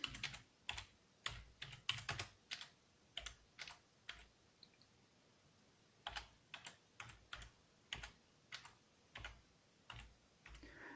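Someone types a telnet command on a computer keyboard, giving a quiet, close series of separate key clicks in an uneven rhythm with short pauses and no talking.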